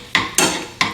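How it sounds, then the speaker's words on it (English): A utensil stirring garlic into hot melted butter in a pan over a bit more than medium heat, three sharp metallic scrapes and clinks close up, with no talking. "I'm gonna mix in this garlic"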